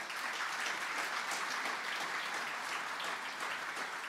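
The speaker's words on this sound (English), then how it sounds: "let's give all those folks a real round of applause" Audience applause in a church during a Sunday service, a dense, steady round of clapping from a sizeable crowd, sustained and even for the whole stretch with no talking over it.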